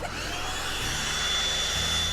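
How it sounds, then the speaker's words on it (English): A vacuum cleaner runs steadily on a carpet in a home, a continuous close whining drone with a slight shift in pitch partway through. "Then vacuum it up."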